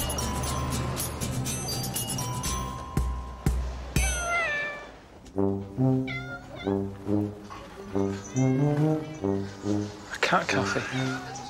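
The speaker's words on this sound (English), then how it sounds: "Cat cafe. You pay to come and pet cats." Cats meowing inside a cat cafe in Japan, a series of repeated, drawn-out meows in a steady rhythm, close and fairly loud, following a stretch of busy background noise.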